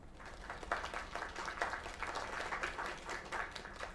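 Moderate applause from a group in a video game, clapping in uneven waves, somewhat distant and faint, with no talking.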